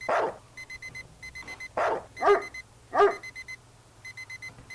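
A dog barks several times in short bursts in the video game Streamer Life Simulator, accompanied by repeated electronic beeping tones, like game sound effects, with no talking.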